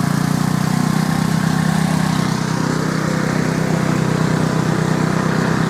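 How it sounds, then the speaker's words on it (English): A Briggs and Stratton engine on a garden tractor runs at a steady, loud, close drone with an even buzzing throb and no talking. "This is how a garden tractor gets abused."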